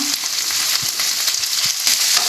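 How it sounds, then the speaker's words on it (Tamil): Vegetables fry with plenty of curry leaves in a pan on low heat, a loud, dense, continuous sizzle with small crackles and stirring scrapes up close. "காய் கொட்டியாச்சு. இது அப்படியே சிம்மில் வச்சுட்டு வறுத்துக்க வேண்டியதான்."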